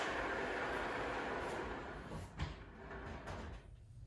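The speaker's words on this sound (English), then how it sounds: "Now I can have doors that can slide all the way along the length of my bench." A DIY plywood hanging door rolls along an overhead roller track under a workbench, giving a steady rumbling glide that fades out, with a couple of light knocks near the end.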